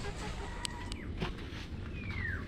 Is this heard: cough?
no